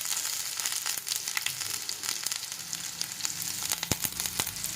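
Garlic cloves, dried red chillies, cumin, mustard seeds and curry leaves frying in hot oil for ajwain rice, with a steady close sizzle, scattered sharp crackles and pops, and no voices.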